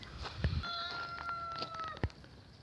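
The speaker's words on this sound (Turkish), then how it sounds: "Bu gördüklerimiz mavi yeşil yumurtacı tavuklarımız" Chickens of an American blue-green egg-laying breed and a rooster on a farm in Mersin, with a sustained tonal call and a few sharp nearby knocks, no talking.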